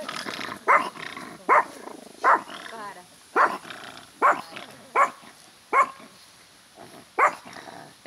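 A small dog barks repeatedly at a campsite, about ten sharp, evenly spaced yaps close by, while a person talks quietly underneath.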